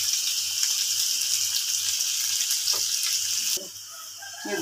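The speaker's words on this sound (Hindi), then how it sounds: "ये देखिए माशाल्लाह से हमारी भिंडी फ्राई हो रही है, काफ़ी हद तक हो गई है।" Okra frying in mustard oil in a pan, a steady dense sizzle heard close up, continuous and fairly loud, dropping somewhat near the end with a few faint stirring clicks.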